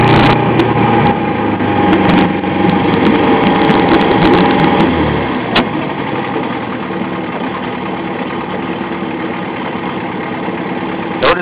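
Boat engine idling close by, a steady mid-pitched mechanical drone with a rapid sewing-machine-like chatter that eases slightly partway through, with no voices.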